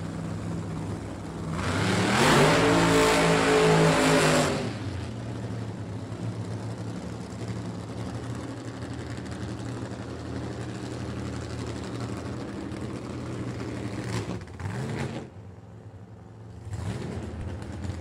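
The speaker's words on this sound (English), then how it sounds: "the first pair of alcohol funny cars set to fire off here in qualifying of the Lucas Oil Regional event." An alcohol funny car drag racing engine at a qualifying round of a regional drag racing event roars in a loud, brief rev burst, then a lower rumbling idle continues with a couple of short blips later, moderately close.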